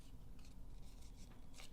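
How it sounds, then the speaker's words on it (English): Scissor edges scrape along folded paper leaves of a handmade ranunculus flower, giving soft, quick, repeated rasping strokes close up in a quiet room. "adding a little bit of texture with the edge of your scissors"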